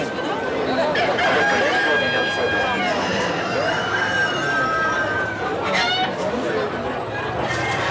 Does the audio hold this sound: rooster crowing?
yes